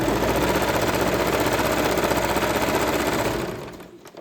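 An electric sewing machine stitches a dress in a loud, continuous rapid whir with a fast needle rhythm, then winds down and stops near the end.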